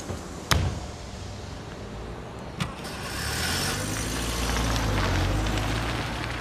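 A car door thuds twice, then an engine turns over and settles into a low, steady idle close by, with no one speaking.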